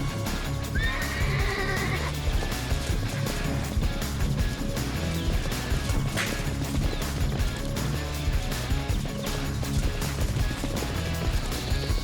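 Brumby wild horses being rounded up give a loud whinny over a thick layer of hooves and rumbling, with the neigh standing out early and the herd noise continuing throughout.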